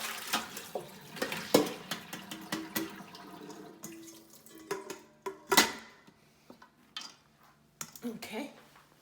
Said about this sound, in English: after 24 hours, I'm gonna drain the water, and here is my drainer